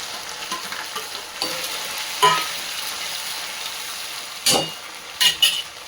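An onion, tomato, ginger and garlic paste masala sizzles steadily in a pan, with sharp spoon-scraping stirs cutting through at intervals.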